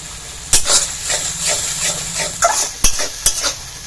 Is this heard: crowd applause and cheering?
no